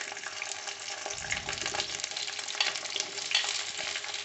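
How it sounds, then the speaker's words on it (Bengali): Okra (bhindi) dropped into hot oil and lightly frying for bhindi do pyaza, a soft, steady sizzle with a brief low rumble partway through. "তেলটা গরম হয়ে গেলে আমরা এটাতে ভেন্ডিগুলো ছেড়ে দিয়ে হালকা করে ভেজে নিচ্ছি।"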